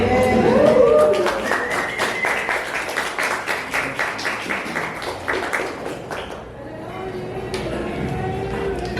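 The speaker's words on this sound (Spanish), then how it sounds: "un aplauso para ella" An audience applauds a writer at a live literary event, steady dense clapping of many hands at moderate loudness, fading after several seconds into room murmur and a voice.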